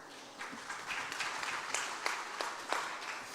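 An audience at a climate change summit plenary session in Lagos applauds: steady clapping that swells slightly and holds, moderately loud with no voices.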